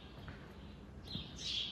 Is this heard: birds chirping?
yes